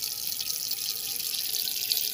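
Tap water pours steadily into a pot for spaghetti, a continuous bright hissing rush at constant loudness with no talk.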